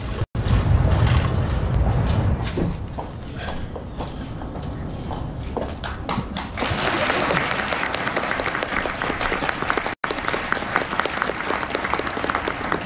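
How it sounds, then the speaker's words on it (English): An audience at a presidential speech breaks into sustained applause, a steady wash of clapping hands that swells louder partway through and carries on without a break. "you heard the applause"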